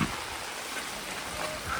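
Heavy rain falling on a street along the Mall Road in Nainital near the Naina Devi temple, a dense steady hiss of downpour filling the air with no voices.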